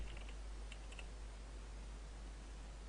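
Keys tapped on a computer keyboard while a Java file is named, a few quick clicks near the start and around the one-second mark, then only a steady low hum remains; no voices.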